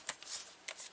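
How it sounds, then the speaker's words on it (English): Tarot cards are shuffled in two quick riffling bursts, close and faint, with no talking. "but I will reshuffle,"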